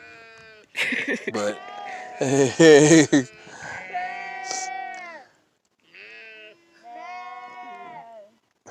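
Sheep bleat on a sheep farm, several wavering calls in a row, fairly close and loud, with people talking over and between them.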